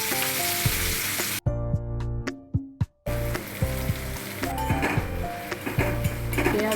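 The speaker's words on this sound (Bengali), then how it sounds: "প্রথমে তেলটা গরম করতে দিয়েছি, গরম হলো। এবার আমি পেঁয়াজ কুচিটা দিচ্ছি।" Chopped onion sizzles loudly in hot oil for a Bengali Bombay duck curry, a dense steady crackle that cuts out briefly for a moment of clinking utensils, then resumes just as strongly.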